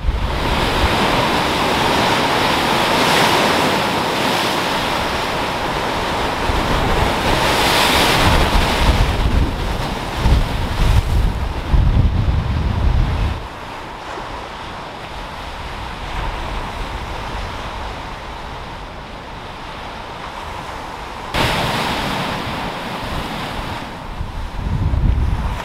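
Strong, gusty wind buffets the microphone on Lakeshore Road by Lake Erie near Buffalo, and waves surge against the shore beneath it, making a loud, continuous roar that rises and falls.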